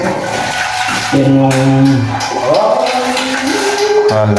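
Water gushes and gurgles loudly through a damaged pipe, with a rumbling flow and the droning hum of a water pump. A voice speaks briefly.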